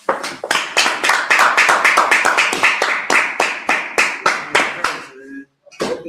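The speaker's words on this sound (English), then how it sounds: "Clap it up." Audience at a gathering of the Israelite School of Universal Practical Knowledge in Minnesota claps along in a steady, loud, rhythmic beat, with voices over it, before the claps thin out and stop.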